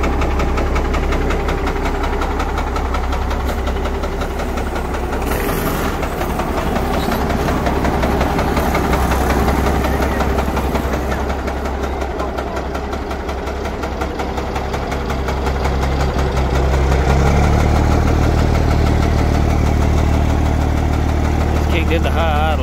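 A Ford CLT-9000 truck's diesel engine runs at high idle, loud and close, with a steady rumbling drone and a faint knocking texture throughout and a slight shift in tone near the end.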